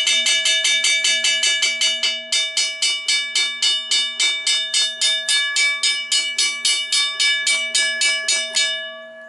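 A restored WCH mechanical bell rings at its fastest speed, a rapid run of bright metallic strikes close up, each stroke quickly followed by the next until the ringing winds down at the end.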